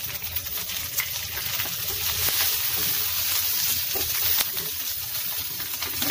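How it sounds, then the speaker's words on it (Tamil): Radish stir fry with curry leaves and green chili sizzling in a pan: a loud, constant hiss and crackle with occasional sharper pops, steady throughout, and no talking. "நல்லா கொஞ்சம் நேரம் வதக்குங்க."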